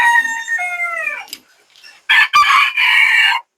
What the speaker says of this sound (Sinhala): මේ තමයි ලෝකෙ ඉන්න ලොකුම කුකුල්ලෝ